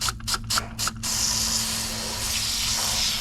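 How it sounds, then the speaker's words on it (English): A few quick pump clicks, then a steady, close hiss of a water sprayer misting a gecko terrarium continuously for a couple of seconds. "it's time to give this enclosure a good spray down"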